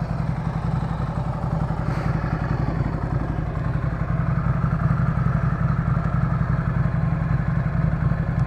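A Ducati Monster 797 motorcycle idles nearby, its engine holding a steady, throbbing, low-pitched beat with a faint mechanical clatter, running alone without talk.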